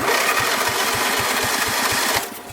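An MTD lawn mower engine cranks and runs with a fast, regular chugging pulse, loud and close, then drops off sharply near the end.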